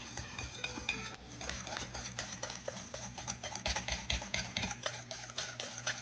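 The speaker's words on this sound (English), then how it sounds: "We're going to whisk this together." Red wine vinegar sauce for a sweet and tangy meatloaf being whisked in a bowl, giving a steady run of quick metallic clinks and scrapes, close and moderately loud, with no talking.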